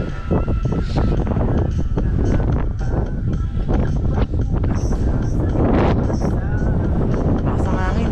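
Strong winter wind buffets the microphone in heavy, continuous rumbling gusts on a ride in South Korea, loud and close, with brief voices mixed in.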